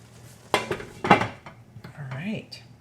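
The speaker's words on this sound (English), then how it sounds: "I'm going to put a lid on top and let that just kind of simmer." A lid is set onto a skillet of simmering chicken with peaches and rosemary, making two close metallic clanks followed by lighter rattles, with a brief voice near the end.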